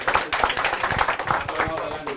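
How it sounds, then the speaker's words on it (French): An audience at a press conference claps in quick, uneven bursts, moderately loud and close, with voices talking over the clapping. "Applaudissez notre bienfaiteur."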